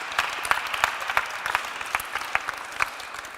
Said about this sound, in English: You can applaud to yourself.